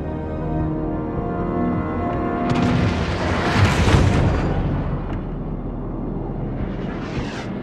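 Battleship Atlantico's naval guns fire on an enemy warship in a naval combat video game, with heavy rolling booms swelling to a loud peak midway, fading, then a sharper burst near the end and no voices.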